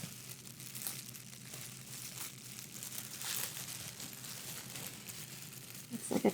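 A thin, crinkly plastic bag is handled close up, its rustling and crackling running continuously at a soft level with a few louder crunches near the end.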